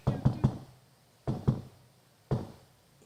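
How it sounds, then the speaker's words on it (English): Knocks rap on a wooden coffin in three quick groups, three, two, then one more, each blow hollow and fairly close, with no voices over them. "I'm gonna do a more elaborate knock"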